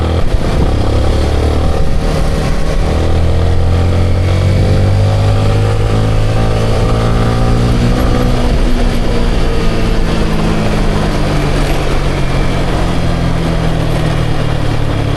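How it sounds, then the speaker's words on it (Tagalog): A motorcycle engine revs and pulls hard while riding, its rising and falling whine sweeping through gears over steady wind and road noise, loud and close throughout, running on fresh synthetic oil. "Ang ganda humatak ng motor ko ngayon, ah."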